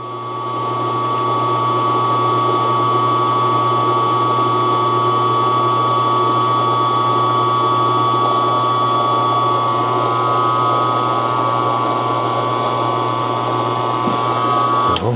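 Steady, continuous machining whine with a low hum and high tonal ringing as a tool cuts through a 5-cylinder radial cylinder head holding fixture, close and constant for about fifteen seconds, ending abruptly.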